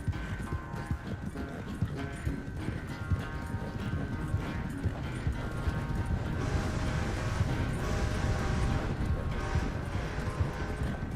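Rapid, steady hoofbeats of a galloping racehorse in Red Dead Redemption 2, loud and continuous, over a dense rumbling background.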